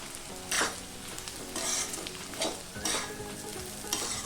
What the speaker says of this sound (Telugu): మసాలా వేసుకున్న తర్వాత ఇలా కలుపుకుంటూ 2 నిమిషాలు వేసుకుంటే సరిపోతుంది।